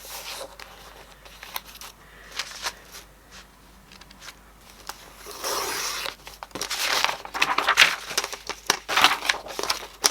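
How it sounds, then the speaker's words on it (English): Paper trimmer slicing through sketchbook pages in a quiet room, with soft crunching and crinkling strokes that grow louder and denser in the second half as the paper is handled and cut. "So just get my trimmer, and I'm just going to trim this down."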